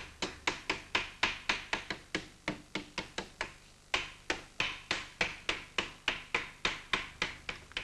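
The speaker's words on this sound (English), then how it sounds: "He does this by beating the lead with a special wooden hammer," Rapid, regular wooden hammer blows beating sheet lead with a dresser, dozens of sharp close taps in a steady rhythm with a brief pause midway, no voices.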